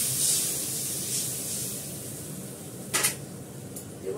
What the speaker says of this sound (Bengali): অল্প করে জল দেবো।